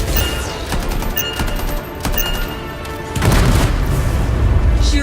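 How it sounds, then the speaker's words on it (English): Explosives detonating inside a foundry in the Anthem video game, heard as a dense burst of booms and crackling blasts that swells loudly after a few seconds of busy combat noise, with no talk. "I think the explosion destabilized the foundry."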